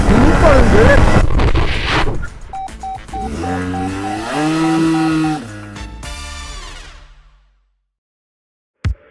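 Racing go-kart engine on a track, a loud buzzing whine that rises and falls in pitch as it passes close, then fades into silence, with a voice briefly heard near the start.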